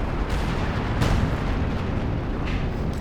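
Continuous rumbling artillery barrage in the real-time strategy game Company of Heroes 2, dense booms and blasts layered into a steady roar, with a heavier impact about a second in.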